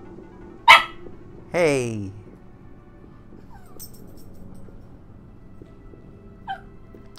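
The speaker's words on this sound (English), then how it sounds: "The dog is upset." A dog in the police tactical game SWAT 4 gives a sharp single bark, then a falling, drawn-out whimper, with a brief yelp near the end. Someone says a short word at the start.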